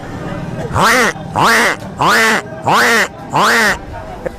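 A man imitating two geese honking in the morning, five loud, evenly spaced nasal honks in a steady rhythm, close and clear.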